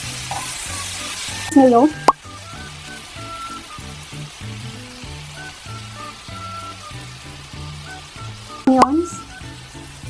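Tofu and hotdog frying in butter in a pan, a steady sizzle running throughout with soft stirring scrapes and a couple of brief louder clatters, while a voice speaks briefly over it.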